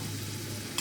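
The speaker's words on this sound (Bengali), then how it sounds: "একটু কষাই নেব মশলাটা" Spice paste fries in a pan while being stirred during khichuri cooking, giving a steady close sizzle with soft scraping of the spoon and a brief louder knock near the end, without any talk.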